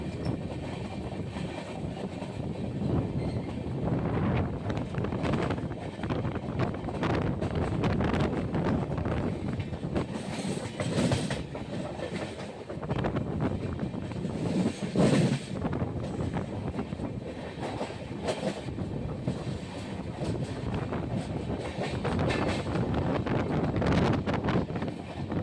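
The Kagaznagar Superfast Express, running at speed after Kazipet, makes a loud, continuous rumble with rattling wheels and heavy wind rush, recorded from inside the train.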